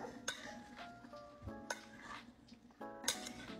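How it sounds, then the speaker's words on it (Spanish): A spoon clinks and scrapes against a bowl while an apple and strawberry salad is stirred, giving a few bright, ringing taps spaced apart over a soft background. "Ahora sí voy a revolver todo."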